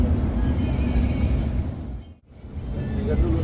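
A Mercedes-Benz 1526 bus engine runs on the road, a steady loud drone that dips briefly and then swells back, with voices talking over it.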